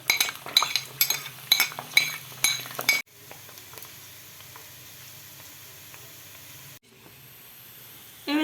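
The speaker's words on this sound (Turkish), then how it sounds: "Şimdi iyice ısındıktan sonra kuru soğanımı ekleyeceğim." Dried onions hit hot oil in a pan with a burst of clinking utensil strikes, then settle into a steady, close frying sizzle and hiss, with another brief clatter near the end.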